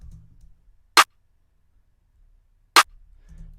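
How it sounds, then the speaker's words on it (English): Two punchy layered clap-and-snare hits, bright and sharp, separated by a pause with faint low background noise around them. "And then I layered a clap and a snare."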